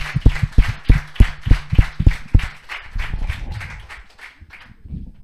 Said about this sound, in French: je pense qu'on peut encore les applaudir en tout cas.